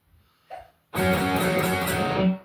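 A distorted electric guitar plays a short riff from a song, loud and sustained with ringing harmonic notes after a brief quiet pluck.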